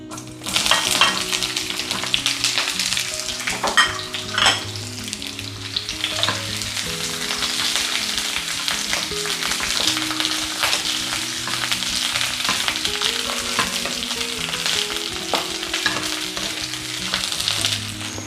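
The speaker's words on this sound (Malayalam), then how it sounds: "എണ്ണ ചൂടായി കഴിയുമ്പോൾ നമുക്ക് കട്ട് ചെയ്ത് വെച്ചിരിക്കുന്ന വഴുതനങ്ങ ഒന്ന് തുടച്ചതിന് ശേഷം എണ്ണയിലേക്ക് ഇട്ട് കൊടുക്കാം" Cut brinjal (eggplant) pieces fry in hot oil in a pan for a curry, giving a steady, dense sizzle close by, with occasional scraping stirs and no talking.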